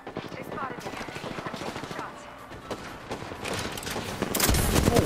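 Gunfire erupts in an Apex Legends ranked match, with sharp repeated shots and bursts throughout and a louder, heavier volley near the end, mixed with game sounds.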